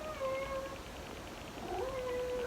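A cat meows in two drawn-out, wavering calls, the second rising and sustained, close and clear over a soft background hiss.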